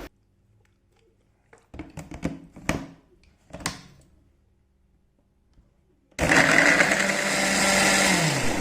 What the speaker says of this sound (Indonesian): sekarang kita akan haluskan, kita akan blender ya